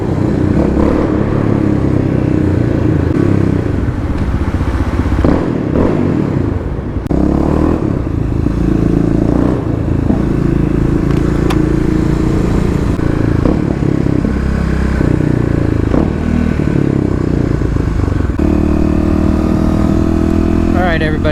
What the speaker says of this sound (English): The sweet noises of engine sounds in the parking garage.